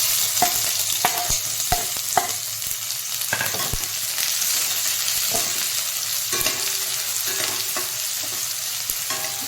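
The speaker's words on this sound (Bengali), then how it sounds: "এরপর আমি দিয়ে দেবো এটার মধ্যে এই কেটে রাখা পেঁয়াজ কুচিগুলো।" Chopped onions for chana curry sizzle and fry steadily in a pan, with sharp clicks and scrapes of stirring breaking through a continuous hiss, close and fairly loud throughout.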